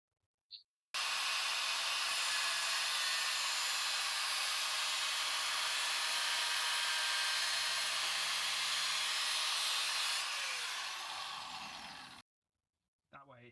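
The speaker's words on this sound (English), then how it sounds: "Now I just run like a score mark down with my grinder." Angle grinder scoring a line on sheet metal for a Mustang model build, a steady loud high-pitched grinding whir that starts abruptly, runs about eleven seconds, then winds down and stops.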